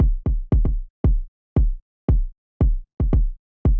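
A deep electronic kick drum plays a syncopated pattern of booming thumps, some hits doubled close together, loud and isolated.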